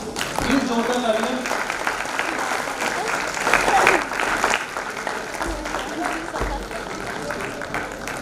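An award ceremony audience applauds joint second runners-up, the dense clapping running steadily for about eight seconds with a slight swell midway, while voices carry on underneath.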